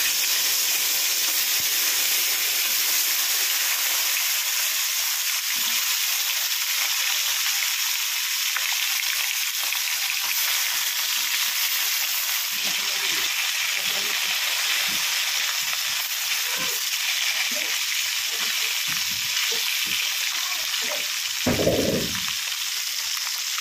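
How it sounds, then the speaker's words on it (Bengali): Salt-and-turmeric-coated fish frying in a pan gives a loud, continuous sizzle and hiss, with occasional soft stirs and spatters near the end and no speech. "এখন মাছে ভালোভাবে নুন হলুদ মাখিয়ে নেব, নিয়ে মাছগুলো ভাজলেই হয়ে যাবে"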